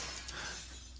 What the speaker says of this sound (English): But breaking this glass is perfectly fine.